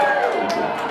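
Crowd cheering and whooping at a campaign meet and greet in Ames, Iowa, a dense burst of voices close by that holds steady for about a second.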